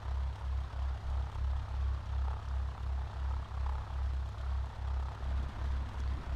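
A propeller airplane lands in the Prepar3D flight simulator game, its engine throbbing in a steady low pulsing drone at reduced throttle throughout, with no talking.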